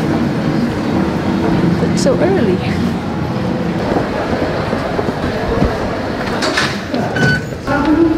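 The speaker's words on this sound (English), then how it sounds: "Oh, that's our train, quick." A train pulling into a station, its heavy rumble and rolling rattle steady and loud nearby, with squeals and clanks toward the end while a person speaks briefly over it.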